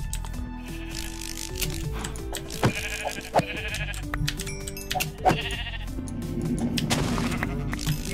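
Sheep bleat repeatedly in modded Minecraft, with several sharp, loud bleats standing out over a steady backdrop of whirring, ratcheting machinery and gear sounds.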